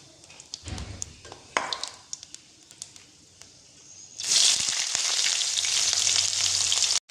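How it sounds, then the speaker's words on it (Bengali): Chopped onions added to hot oil tempered with cumin, dried chilli, black pepper, cardamom and bay leaf for chicken curry, bursting into a loud, steady sizzle that holds after quieter clinks and stirring. "সমস্ত পেঁয়াজটাকে দিয়ে দিয়েছি, এখন একটু লাল লাল করে ভেজে নেব।"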